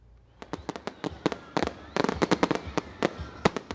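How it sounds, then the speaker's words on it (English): Fireworks and firecrackers burst in rapid irregular bursts of sharp cracks and pops, some overlapping in quick clusters, loud and fairly close, with little else beneath them. "They're loud, bright, and beautiful. But what exactly puts the crack in a firecracker?"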